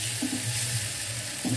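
Grated tomato and ginger fry in a pan for a fish kalia, giving a steady close sizzle with a few stirring scrapes and no talk.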